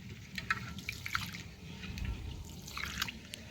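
Cloudy rinse water is poured off rice being washed in a kitchen, making a continuous close splashing and trickling with small drips.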